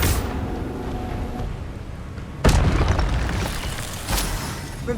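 Incendio fire spell in Hogwarts Legacy bursting with a sudden booming whoosh midway through dense, roaring game ambience, followed by a smaller flare of crackling later on.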